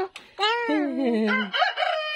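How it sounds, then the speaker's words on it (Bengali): A Japanese Black Tail rooster, kept on a farm with two hens, gives a loud, close crow with a long drawn-out call and a rising end. "এখানে দুইটা মুরগি আর একটা মোরগ আছে আমার কাছে, জাপানি"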